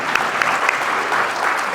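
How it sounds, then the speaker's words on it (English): Audience applause for a singer at an awards ceremony, a steady dense clapping from a crowd with no break, loud and sustained throughout. "Can she get another round of applause"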